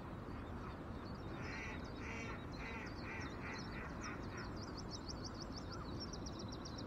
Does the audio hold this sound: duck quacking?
yes